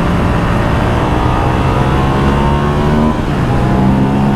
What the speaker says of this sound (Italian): Quando apri è veramente arrabbiato sto motore.